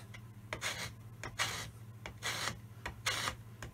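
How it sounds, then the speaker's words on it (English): A hand pull scraper rasps across the metal saddle of a Myford Super 7 lathe in several short, close strokes, each a dry scratchy rub, over a faint steady hum. "And I scrape it with hand scraping, pull scraping actually, like just pull scraping it"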